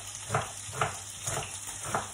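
Onion fries in a pan on high heat with a continuous sizzle, broken by roughly regular bursts of louder crackle about every half second as the pan is stirred. No voices are heard.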